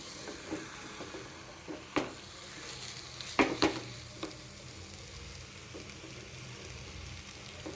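Stuffed beet and tomato fry quietly in a small pan, a faint steady sizzle with occasional light clicks and taps of a utensil against the pan.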